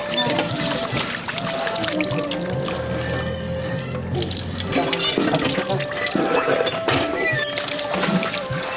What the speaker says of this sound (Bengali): এই যে এখন আমি গোস্ত ধুইতেছি